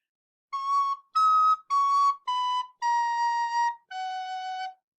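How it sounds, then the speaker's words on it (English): Six clear, breathy recorder notes from Frère Jacques played one after another, the last held longer and lower, with short silences between them. "when I play, I don't take my fingers really far off of the recorder"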